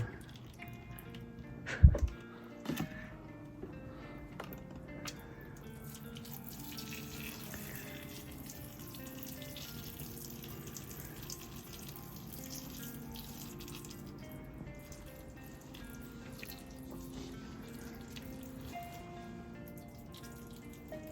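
Tap water showers over the leaves of a freshly bought potted anthurium: a brief loud splash early on, then a long, soft, steady trickle and drip with no voices.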